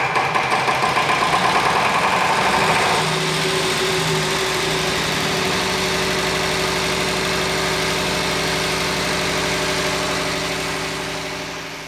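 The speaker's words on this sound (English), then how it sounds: "Now we start the engine." An internal combustion engine on a laboratory test rig cranks and catches, then settles into a loud, steady idle with a continuous low throbbing hum that runs throughout and fades slightly at the end.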